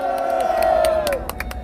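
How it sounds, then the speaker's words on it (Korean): An outdoor political rally crowd at a city plaza cheers with scattered whoops and shouts while clapping, a long rising-and-falling voice cry standing out over the roar, fairly close and lively. "우리 공화당 공동대표이신 조원진 대표님께 여러분 큰 환호 박수 부탁드립니다."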